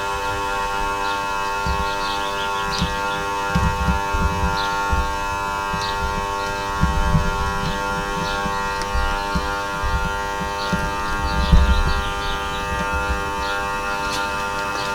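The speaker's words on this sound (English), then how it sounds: "I'm going to keep the machine's compressor running out all that residual that's left over." A Mr Cartool T110 smoke leak detector machine with its compressor running, giving a steady mechanical hum with a faint ticking rattle and low thumps throughout.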